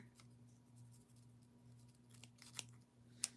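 A few quiet, crisp snips of scissors cutting, sparse and irregular, over a low steady hum in a quiet room.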